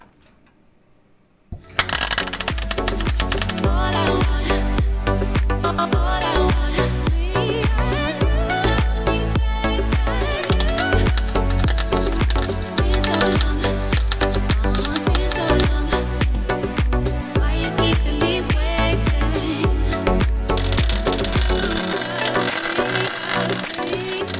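A welder fills a blown-through hole on a brake part for a 1934 Chevy truck: loud, steady crackling and buzzing that starts after a short silence and runs unbroken for over twenty seconds, with no talking.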